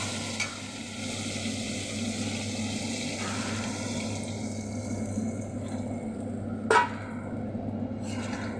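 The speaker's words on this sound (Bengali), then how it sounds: "এবার আমি পরিমাণ মতো মাছে জল দেবো।" Water poured into a pan of spiced tilapia fish curry on the stove gives a steady low wash and bubbling hiss, with a faint clink partway through; no talk.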